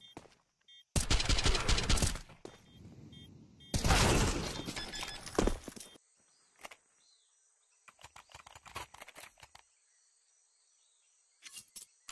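Gunfire in a Counter-Strike match on the Ancient map: two loud, sustained bursts of shots, followed by sparser sharp clicks and shots over quieter stretches, with no talk.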